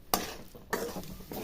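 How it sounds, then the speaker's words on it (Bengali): Banana flower filling stir-fried in a pan with onion and garlic, a close scraping stir with a few sharp strokes over a low sizzle, no voices. "মোচার পুরটা যতক্ষণ শুকনো শুকনো না হচ্ছে ততক্ষণ আমি এভাবে নেড়ে চেড়ে পুরটা কষিয়ে নিব।"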